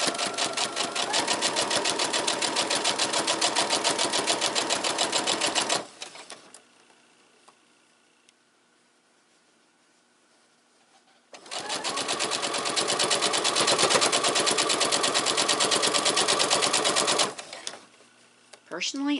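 A sewing machine runs in two long bursts of rapid, steady stitching, each about six seconds, separated by a quiet pause, with a brief trailing run at the very end.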